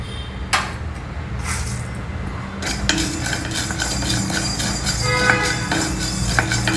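Two teaspoons of whole black peppercorns dry-roast in a pan, with a spatula scraping and clinking against the metal in quiet, irregular bursts that grow busier partway through.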